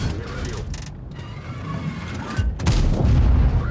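Tank cannon shots in an armored-vehicle video game, heavy booming blasts over a rumbling engine and mechanical clatter, the loudest impact landing near the end.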